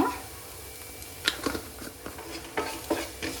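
Spices including turmeric, chicken masala and garam masala, mixed with tamarind and sugar, are stirred in a pan. A soft sizzle plays beneath a few distinct, close scraping strokes of a spoon, with no voices.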